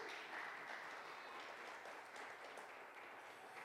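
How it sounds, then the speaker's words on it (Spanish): A church congregation applauds in praise, a dense, continuous wash of clapping from many hands that holds steady and fills the room throughout. "Dele un aplauso al Señor. Give him a hand of praise."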